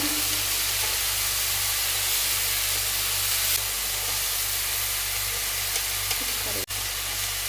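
Mackerel frying in a pan with onions gives a steady, broadband sizzle that runs throughout, with a low hum underneath and one brief sharp click near the end.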